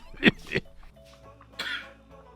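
Two sharp coughs close together, followed a moment later by a third rougher cough, close to the listener with quiet room sound between.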